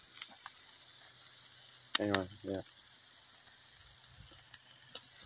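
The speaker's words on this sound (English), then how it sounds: "God, that sizzle sounds great." New York strip steaks sizzle on a grill over apple wood, a steady soft frying hiss running throughout while someone speaks briefly near the middle.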